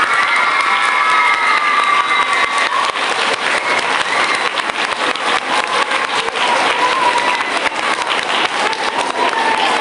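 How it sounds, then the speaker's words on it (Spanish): School audience welcoming a visiting author, loud continuous applause mixed with cheering and children's shouts, a dense crowd roar sustained for about ten seconds. "Recibámoslo con un fuerte aplauso, por favor."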